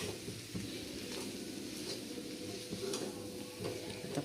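Diced potatoes with turmeric and salt sauté in hot oil for a Marathi potato bhaji, giving a soft, steady sizzle with faint scraping stirs and light ticks, quiet throughout.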